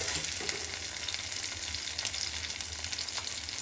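Tomatoes sizzle steadily in a hot pan while cooking ghugni, a dried pea curry, making a continuous close frying hiss with no speech over it.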